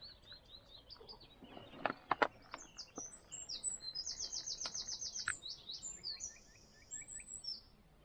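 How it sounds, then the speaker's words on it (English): Birds chirp and trill in rapid, high bursts against a quiet outdoor background on the Crom Castle estate in Northern Ireland, with a few sharp clicks early on. "Just listening to the bird song, like it's just Beautiful."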